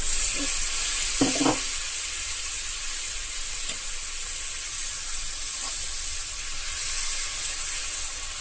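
Gongura curry simmers and sizzles in a pan, a steady close hiss of frying liquid with a few faint clicks of stirring throughout, and no voices.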